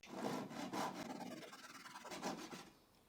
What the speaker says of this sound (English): cut the dowel flush with a Japanese saw